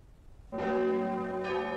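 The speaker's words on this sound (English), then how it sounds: "churches all over the north rang their bells backwards as a signal for the rebellion to begin" Church bells in northern England, rung backwards as a signal in 1569, strike loudly with bright, ringing overtones that sustain. A second strike comes about a second after the first, with no voices.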